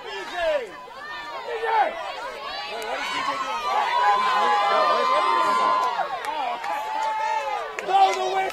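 A crowd at a college men's soccer match between JWU and John Wesley chatters and calls out restlessly, with overlapping shouts and voices rising and falling across the stands.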